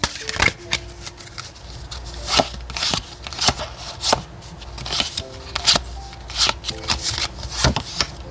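Oracle cards are shuffled for a tarot reading, giving a close run of crisp riffling and slapping bursts at an uneven rhythm, with occasional soft speech.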